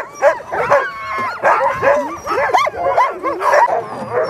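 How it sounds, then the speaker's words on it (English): Excited sled dogs in a kennel bark, yip and whine in a rapid overlapping chorus as harnesses are brought out, loud and close with no pauses. "All the dogs were quiet until the harnesses came out and everyone in the kennel got excited."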